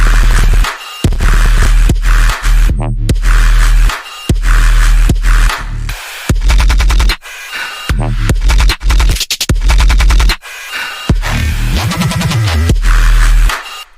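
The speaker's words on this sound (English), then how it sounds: "So these are exactly the same basses I showed earlier, just in a different pattern." Loud electronic track built on a heavy repeating bass pattern punctuated by harsh, distorted percussion samples, with brief drop-outs to silence between phrases and a dense, gritty top end throughout.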